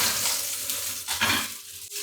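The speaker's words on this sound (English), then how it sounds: "Now I'm just cooking one piece of fish at a time here in a larger frying pan." Skin-on fish sizzling in a large frying pan, one piece at a time, a close, crackling hiss with soft scraping and stirring sounds, no voices.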